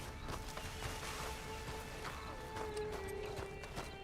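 Hoofbeats and a neigh from a horse in Red Dead Redemption 2, quick clip-clop steps over a bed of game music, with a brief whinny rising near the end.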